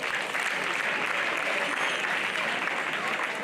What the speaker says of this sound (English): We can please clap for them.